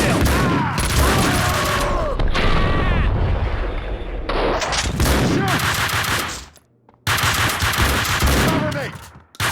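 Rapid bursts of gunfire from the video game Max Payne 2, with loud overlapping volleys and automatic fire running almost without a break, then a short near-silent gap before the shooting resumes.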